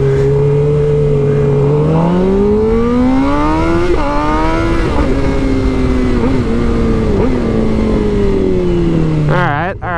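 A motorcycle engine revs up close in one sustained, buzzing drone that climbs and sags in pitch over several seconds before a final sharper burst of throttle.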